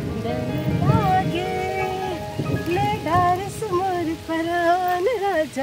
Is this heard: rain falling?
yes